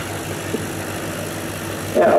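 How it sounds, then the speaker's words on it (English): A Fieseler Storch's 240-horsepower Argus AS10 air-cooled inverted V8 idles on the ground at Old Warden, a low rumbling drone held steady, with a louder broadband swell near the end; no speech. "240 horsepower Argus AS10 air-cooled inverted V8 for a distinctive sound"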